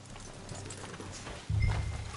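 Horse hooves clip-clop in a steady rhythm in the video game Red Dead Redemption II, moderately close, growing louder and heavier toward the end with a low rumble underneath.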